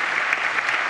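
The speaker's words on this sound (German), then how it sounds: "Das Parlament klatscht Ihnen" Parliament members applaud after a swearing-in ceremony, steady dense clapping throughout, loud and close.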